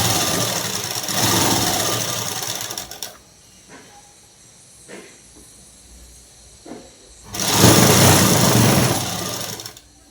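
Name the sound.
sewing machine stitching a night dress seam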